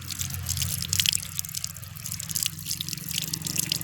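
Water runs continuously from an outdoor tap, with a hose fitted to carry it away, while fresh coriander leaves are washed. The trickle is faint and steady, with light splashing and no talk.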